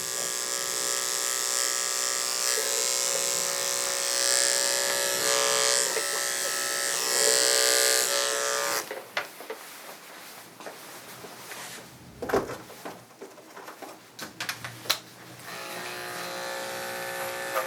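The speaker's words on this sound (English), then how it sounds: "I've got my 7 blade here. I'm using an Andis 5-speed" Andis 5-speed electric dog grooming clippers fitted with a 7 blade buzz steadily and close for about nine seconds, then stop, followed by handling clatter and faint rustling.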